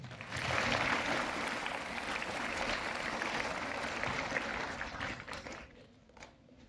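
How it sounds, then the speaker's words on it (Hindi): A school audience at a Republic Day celebration claps in a dense, sustained wash of applause, somewhat distant and even, tapering off and fading near the end. "तो एक बार जोरदार तालियां आप लोगों के लिए"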